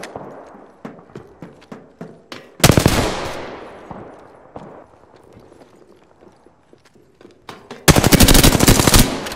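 Gunfire in the video game Apex Legends: a run of sharp single shots, then two long loud automatic bursts separated by scattered reports, close and with no talk over it.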